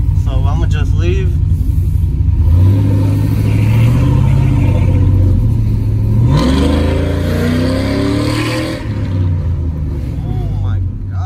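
A cammed 5.3 V8 with a new exhaust holds a deep, choppy idle rumble, then revs up partway through and settles back, loud and close, with a voice heard at times.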